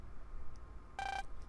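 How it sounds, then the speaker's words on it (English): A short electronic phone-call chime from the Mega Man Star Force 2 video game, a brief bright tonal burst sounding once over a faint low background hum, with no voices. "Phone call."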